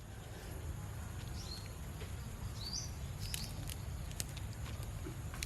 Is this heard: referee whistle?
no